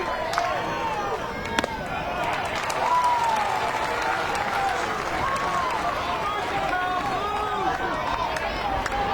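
Baseball crowd at a college Super Regional game, FSU vs UF, cheering steadily in the late innings to rouse the offense, a dense continuous roar with scattered whistles and shouts throughout.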